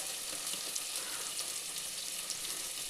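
Green chillies and tomato frying in a pan for a Tamil-style fish curry, giving a steady, dense sizzle that holds evenly throughout with no talking.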